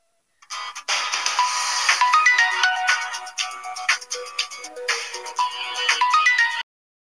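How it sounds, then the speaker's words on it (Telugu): A mobile phone ringtone plays alone for about six seconds, a bright, busy electronic melody at steady volume that stops abruptly. "మా ఇంటి దగ్గర నుంచి ఫోన్ వచ్చింది, మాట్లాడొస్తాను."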